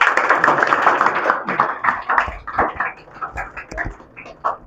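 An audience claps to welcome a guest at a ceremony honouring students who did well in their matriculation exams. The applause is dense and loud at first, then thins into scattered, fading claps.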